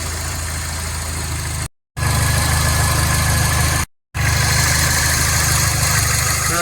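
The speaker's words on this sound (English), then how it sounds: "Let's see if it starts. Sounds better after it was ticking over for a couple of minutes" Mini Cooper S with a repaired high pressure fuel pump fault idling after starting, a loud, steady, close engine hum cut by two brief silent gaps.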